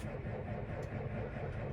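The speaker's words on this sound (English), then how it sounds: "Xerion cold start." A Claas Xerion tractor with a Caterpillar engine starting cold gives a steady, deep, rumbling drone, close by and constant throughout, with no voices.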